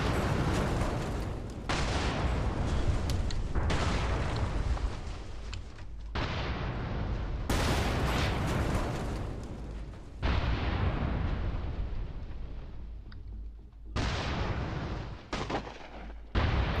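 A Bradley's Bushmaster cannon fires in the tank game GHPC in long sustained bursts of rapid booming shots, separated by brief pauses, with heavy low-end thump throughout.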